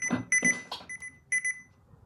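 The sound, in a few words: timer alarm going off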